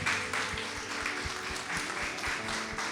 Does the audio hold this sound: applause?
yes